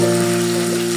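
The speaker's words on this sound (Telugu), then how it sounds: "చేసుకున్న ఉల్లిగడ్డలు అవన్నీ ప్యాన్లో వేసుకొని" Chopped onions sizzling steadily in a hot oiled pan while cooking a boiled egg fry curry, a continuous close, fairly loud frying hiss with no talk.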